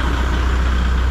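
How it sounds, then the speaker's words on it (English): Kubota MX6000 tractor engine running at wide open throttle, a loud, steady, unbroken drone throughout with no voices. "I'm gonna go wide open throttle, let off, see if it fires up."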